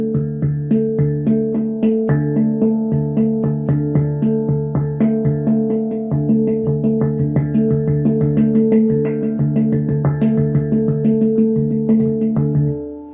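Melodic handpan tones played in a steady, quick paradiddle sticking pattern with switched hand placement, ringing notes overlapping at a constant moderate volume with no talking.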